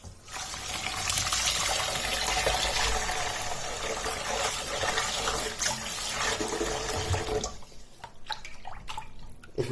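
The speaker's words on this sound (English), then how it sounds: "And refresh them under cold water." Cold tap water runs hard over wild garlic leaves in a mixing bowl, a loud, close, steady splashing rush that drops off near the end, leaving a few drips and light clatter.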